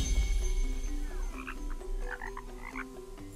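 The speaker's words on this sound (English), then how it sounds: "There's two frogs, there's one frog, and there's three frogs over here." Frogs croak in the video game Kena: Bridge of Spirits, a few nearby calls rising and falling over a low ambient musical drone, with no talking.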